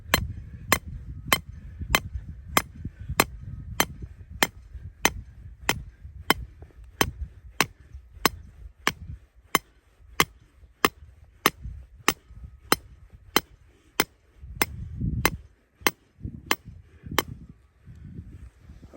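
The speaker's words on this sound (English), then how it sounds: "I'm just going to start hammering this with the Sledge Hammer. This is a 3-pound sledge." Steady sledgehammer strikes from a 3-pound sledge drive an 8-foot grounding rod into wet ground, about twenty-eight sharp metallic clanks at a regular pace of roughly one every two-thirds of a second, close and loud, with no talking.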